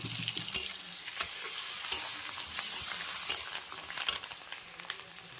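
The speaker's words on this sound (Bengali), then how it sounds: "তো এই মাছের ডিম আর এই যে মাছের তেলটা একসাথে ভাজা হচ্ছে" Fish roe and fish oil frying with onions in a pan, giving a steady, fairly loud sizzle with crackles, spits and occasional stirring clicks throughout.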